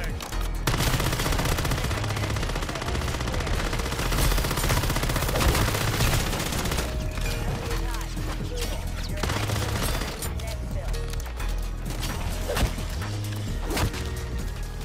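Rapid SMG fire in Modern Warfare 3 Zombies, dense and sustained bursts of automatic shots with hits and thuds over game sound, loud throughout.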